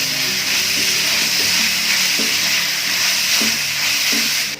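Chicken pieces sizzle steadily in a hot pan with oil, a loud continuous frying hiss broken by a few soft stirring scrapes and clicks against the pan.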